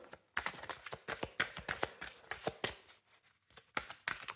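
Tarot cards handled and drawn from a deck, a steady run of crisp, close slaps and shuffles with brief pauses, no talking.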